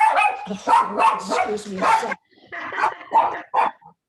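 Indoors, a puppy lets out a rapid run of sharp, yappy barks and yips, then a few more after a brief pause. A person says a couple of words partway through.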